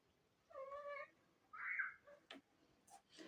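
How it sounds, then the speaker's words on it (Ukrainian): A cat meows twice at a closed door, faint and plaintive, wanting it opened, followed by a few light knocks or scratches nearby in an otherwise quiet room. "Але в нього не виходить, тому він м'яуче"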